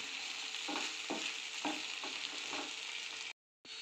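Okra sautéing with chili powder in a pan, a steady close sizzle with regular scraping stir strokes about every half second, cut off by a brief silence near the end.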